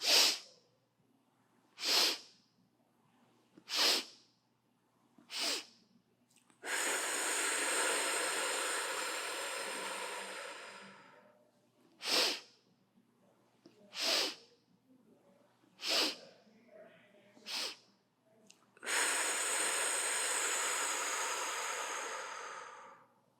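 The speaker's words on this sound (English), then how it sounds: "The slower you can start to make those 4 sniffs, really separating them from each other" Slow, deliberate nasal sniffs from a breathing exercise for panic attacks come in short, separated bursts, each set followed by a long blowing exhale. The sound is close and clear with nothing else behind it.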